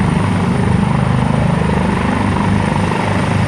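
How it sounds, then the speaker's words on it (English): A Maryland State Police helicopter taking off after a traffic accident gives a loud, steady rotor and turbine drone that holds evenly from start to finish, with no voices over it. "So we come down to see what the helicopter was doing."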